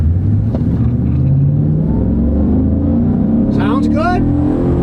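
A pickup truck engine hums steadily, its pitch climbing as it accelerates from a stop, with a brief squeal near the end.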